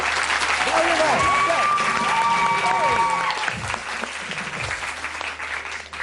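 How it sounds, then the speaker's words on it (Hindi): Applause from an audience fills the space, with a sustained tone and scattered voices running over the clapping. "और तुम लोग जरा अपने लिए भी तालियां बजाओ।"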